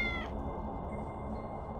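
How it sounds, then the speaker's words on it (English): A cat in the video game Tales of the Neon Sea lets out one short, close meow at the start. Only a low, steady background rumble follows. "He has a cat named William, and it looks like Satan"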